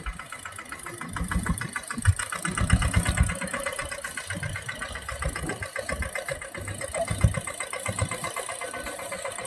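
A mini tractor engine chugs steadily at idle in a groundnut field, its rhythmic knocking putter continuing throughout at a moderate, close distance.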